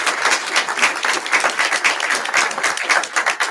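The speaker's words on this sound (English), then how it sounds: "Give Ron a big round of applause" An audience at a genealogy lunch-and-learn gives a round of applause as a guest comes up, loud, fairly rhythmic clapping with pulsing waves from a moderate crowd, continuous throughout.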